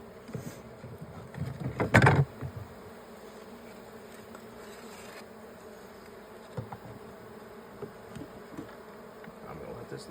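Honey bees buzzing while comb is being removed from a hive, a continuous faint drone of many insects close by, with a brief louder clunk and rustle of handling near the start.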